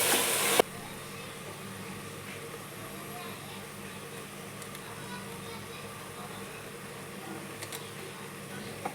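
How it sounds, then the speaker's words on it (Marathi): Carrots and peas frying in oil in a pan for pav bhaji give a steady, soft sizzle that holds evenly throughout, following a brief louder burst at the very start. "गाजर, वाटाणा. तेलावरती आता थोड्याशा फ्राय करायच्या भाज्या."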